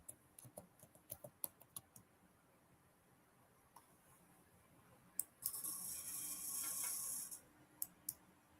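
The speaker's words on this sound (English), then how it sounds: "Let me type it." Keyboard keys tap in a quick, faint cluster of clicks, then a few isolated clicks, followed by a short steady hiss and two final taps, all quiet and close.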